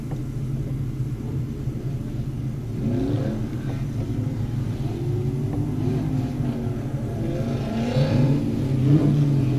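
A Toyota FRS drift car runs on track at a drift series event, its engine rumbling steadily and revving up in swells toward the end, loud and continuous with a deep low drone and no talk.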